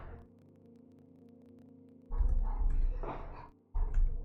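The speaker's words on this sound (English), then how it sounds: "Also, sorry for the barking." A dog barks indoors in a few loud, rough bursts after a stretch of low electrical hum, with a brief pause between the barking spells.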